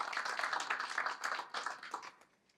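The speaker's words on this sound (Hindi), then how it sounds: "एक बार जोरदार तालियां आचार्य जी के लिए।" Lively clapping from a poetry gathering's audience welcoming an honoured guest, a brisk patter of hands that thins out and fades over a couple of seconds.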